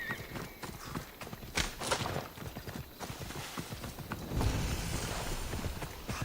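A horse in Assassin's Creed Odyssey plods along with steady, moderately loud clip-clopping hooves, a close rhythmic gait over a light ambient background with no speech.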